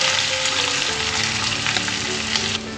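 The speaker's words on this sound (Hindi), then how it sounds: "अब इसको हाई फ्लेम पर हम अच्छे से भूनेंगे" Potatoes with ginger-garlic paste, green chili and cumin seeds fry on high flame in a pan, giving a loud, steady close-up sizzle with light stirring clatter throughout and no talking.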